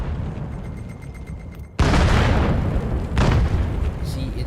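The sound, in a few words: grenade explosions in VR video game VAIL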